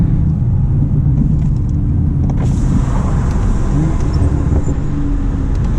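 A Stage 2 BMW M240i with an M Performance exhaust and downpipe roars loudly inside a tunnel, its heavy engine rumble steady and close, the downshifts blurred together, with faint voices underneath.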